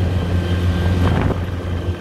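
Nichino IE250 farm carrier rolling downhill under engine braking, a steady low engine drone with a strong low hum and a brief rise in the middle, close and continuous.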